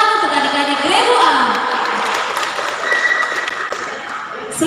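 A crowd applauds the third-place school team, Regu A from SD Negeri Wakuruma, at a children's math quiz competition, with loud, steady clapping that fills the room, mixed with faint crowd chatter.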